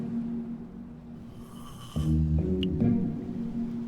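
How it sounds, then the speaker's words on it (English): Fred, a character in Minecraft Story Mode Season 2, snoring with slow, low drawn-out rasps, a deeper tonal snort partway through, close and alone with no talking. "Oh, even his snore makes him sound like a know-it-all."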